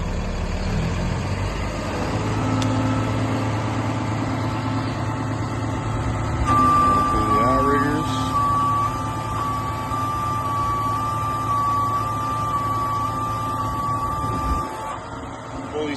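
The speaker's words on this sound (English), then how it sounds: "now we're going to engage the clutch," 2013 Ford F-750 truck with a 6.7L Cummins and Terex XT55 crane, PTO engaged, its engine idling with a steady hum while a sustained whine from the hydraulics sets in midway and holds.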